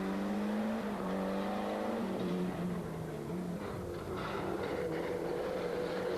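Ford Escort rally car on a treacherous stage at the 1994 Rally des Hautes Fagnes, engine droning loud and steady with pitch rising and falling through gear changes, no talk.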